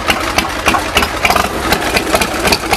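A 2005 Bourget Big Daddy motorcycle engine idling close up, a loud, steady, lumpy rumble with regular pulsing beats throughout, no talking.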